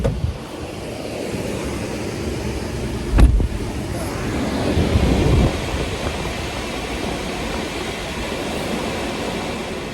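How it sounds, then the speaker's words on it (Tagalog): A car engine idling to warm up on a cold, snowy day, a steady low rumble throughout with a brief louder thump near the start and no talking. "Pina-start ko na yung sasakyan kasi medyo malamig eh."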